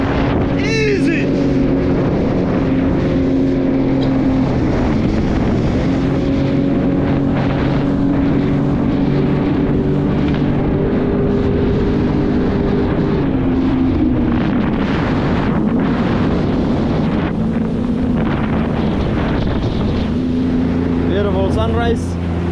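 A jet ski engine runs steadily on open water in the Bahamas, a loud continuous drone with shifting harmonic tones and wind buffeting the microphone throughout.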